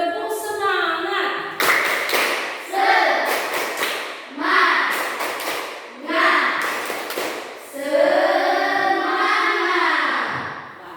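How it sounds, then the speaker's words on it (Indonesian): A classroom of children doing a rhythmic 'tepuk semangat' clap cheer, with bursts of group clapping alternating with sung or chanted voices in a patterned call, loud and close, with the voices mixed into the clapping. "mari kita berikan tepuk semangat"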